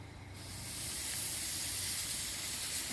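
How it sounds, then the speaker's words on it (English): The steam wand of a Bellman CX25 camping coffee machine opens into a loud, steady hiss that swells in after a quiet start and holds continuously, close and alone. "Now, here's my steam wand."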